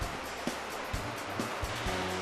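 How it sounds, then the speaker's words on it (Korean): Sea waves surge onto a rocky shore where red crabs gather to release eggs, a loud continuous wash of surf with low rumbling swells rising and breaking throughout, no voices. "순식간에 밀려온 파도."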